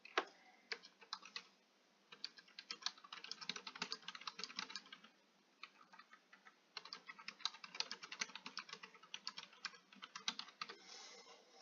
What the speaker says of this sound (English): Ignore my typing over here.